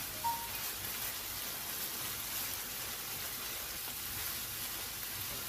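Minced meat and carrots fry in a pan, giving a steady, close sizzling hiss that continues evenly throughout with no talking.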